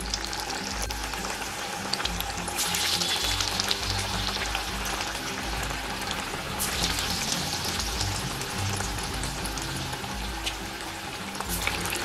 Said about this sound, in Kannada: ಇದನ್ನು ಈಗ ಕಾದಿರೋ ಎಣ್ಣೆಲಿ ಹಾಕ್ಬಿಟ್ಟು ಕರಿಯೋಣ